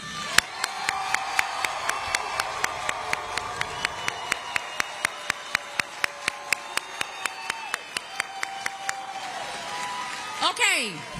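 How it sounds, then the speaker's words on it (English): Applause at a high school commencement for the class of 2026 rises under a crowd, with a sharp, regular tick cutting through at a steady beat and a brief cheer near the end. "Let's give them another round of applause"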